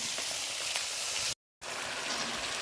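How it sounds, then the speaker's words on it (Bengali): Tomato frying in a pan, a steady, dense sizzle that cuts out for a split second before resuming. "আর এখানে ভাজা হচ্ছে টমেটোটা"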